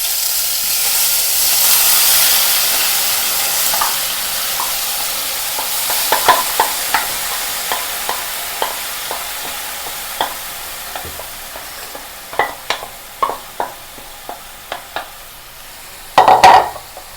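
Cleaned banana flower stir-fried in a pan gives a soft, steady sizzle, broken by a run of sharp spatula scrapes and taps that cluster near the end, with no one talking.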